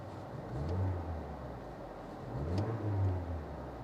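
A car engine idles and is revved twice with the gas pedal, rising to a swelling roar around one second and again near three seconds before settling back, heard close with no talk.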